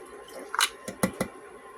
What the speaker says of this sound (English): I'm going to go ahead and add half a cup of water